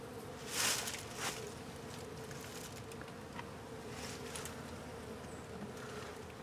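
Honeybees buzz steadily around a hive during a queen, egg and brood inspection, a continuous low drone with a couple of louder bursts early on as bees pass close by.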